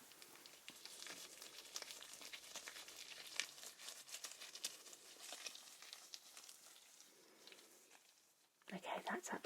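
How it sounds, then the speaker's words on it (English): Latex gloves rustle and crinkle close to the microphone during a quiet ASMR ear exam, soft continuous crackling that fades lower before a louder rustle at the end. "tell me when you can no longer hear the sound of my gloves rustling"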